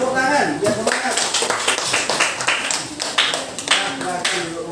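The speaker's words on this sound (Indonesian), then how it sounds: "Tepuk tangan, biar semangat" Classroom group clapping for a student team after their presentation, a brief burst of uneven hand claps with voices talking over it.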